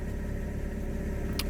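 A Mazda RX-8 rotary engine idles cold, not yet warmed up, with a low, steady, fairly quiet drone and a brief faint hiss near the end.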